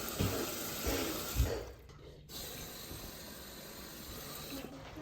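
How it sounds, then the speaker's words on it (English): Water is poured from a tap into cooking pots of apples, a rushing splash with a few clunks that stops partway through, leaving a faint hiss and background noise. "Now put roughly a cup of water into each one."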